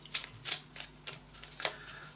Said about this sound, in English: you take the map cards and you give them a good shuffle